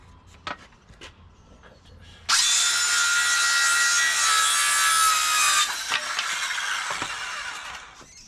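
A handheld saw cuts through material close by: a few light taps, then a loud, steady, harsh rasp lasting about three seconds before tapering into quieter strokes.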